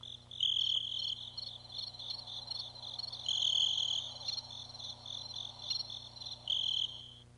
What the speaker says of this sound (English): I don't want to get the crickets out here.